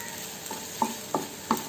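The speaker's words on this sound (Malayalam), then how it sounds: "ഇതെല്ലാം കൂടെ അങ്ങോട്ട് മിക്സ് ചെയ്യാം" Okra and egg curry mixture being stirred in a pan, a faint sizzle punctuated by three or four brief spatula scrapes at a steady pace, quiet and close with no talking.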